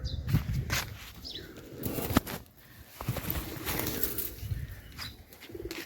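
Domestic pigeons, some sick with the neck-twisting disease, coo softly and low close by, with a few wing flaps and rustles breaking in among the murmuring calls.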